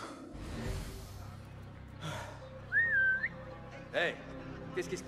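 A character whistles once, short and tonal, in Assassin's Creed Mirage. It rises above breathy game ambience and soft rustling, with a few scattered thuds.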